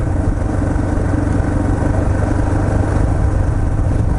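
A Yamaha TT-R230 dirt bike engine runs steadily at low revs on a trail, a close, constant rough rumble with no speech over it.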